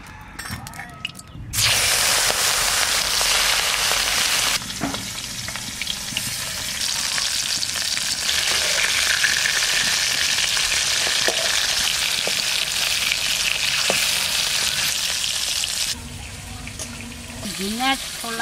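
Oil sizzles and crackles in a hot wok (kadai) for a home-cooked fish dish. The frying is loud and continuous from start to end, broken by a few stirring clinks.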